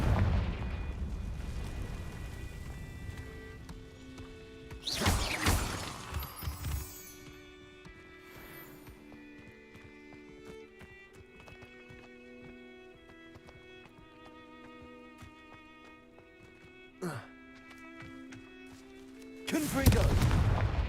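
Confringo explosion spell blasts in Hogwarts Legacy: a loud crackling boom near the start and another near the end, with a softer burst between, over a quiet bed of sustained game music.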